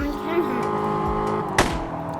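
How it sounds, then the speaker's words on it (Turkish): A Lamborghini in the Car Parking video game revs its engine with a sharp exhaust pop near the end, loud and close in a short burst. "Ulan nasıl patlatıyor egzozu ya?"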